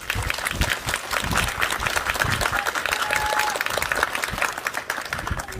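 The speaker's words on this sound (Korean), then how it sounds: "박수는 생략하시고" A room at a press conference breaks into applause, a steady, fairly loud patter of many hands clapping at once that continues through the whole stretch with no voices over it.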